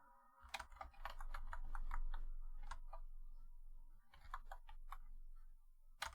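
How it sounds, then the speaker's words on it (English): Rapid clicky keystrokes on a mechanical keyboard come in quick bursts, with a short pause before typing resumes, close and fairly quiet with no voices. "Deep contemplation over the sound of a mechanical keyboard"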